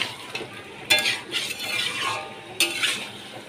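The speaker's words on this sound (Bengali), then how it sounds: "পনির দিয়ে ভালো করে কষিয়ে নিচ্ছি।" Paneer sautéing in a pan, stirred with a spatula: a low sizzle under repeated scraping strokes and a few sharp metallic knocks against the pan, close and moderately loud.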